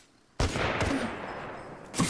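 Gunfire in the Apex Legends video game: a sudden loud burst of shots that rolls on as a dense rumbling volley, with another sharp report near the end.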